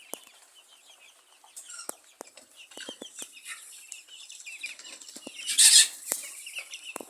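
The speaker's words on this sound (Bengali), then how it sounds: "এখানে আছে কিছু ফার্মি মুরগি কিছু দেশি মুরগি" Farm chickens, a mix of broiler, local desi and tiger-breed birds, cluck and call in scattered bursts, with a loud flurry of flapping wings near the end. No speech is heard.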